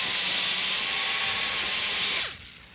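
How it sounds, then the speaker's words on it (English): A high-speed sander with a 40 grit disc grinds fiberglass on a damaged boat hull, a loud, steady, hissing roar that keeps going for about two seconds and then drops away as the disc winds down. "What I'm using is just a high-speed sander with some 40 grit disc."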